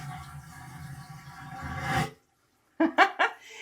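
A cruise ship cabin toilet on Royal Caribbean's Navigator of the Seas flushes with a loud, close rushing whoosh lasting about two seconds, then cuts out abruptly; after a short silence a few gurgling refill bursts follow.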